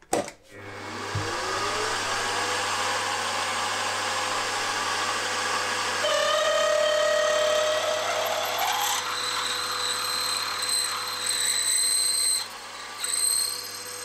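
A drill bores steadily into metal with a 31/64 bit while machining an engine connecting rod, a continuous high whine with grinding, rising pitch partway through, close and loud without pause.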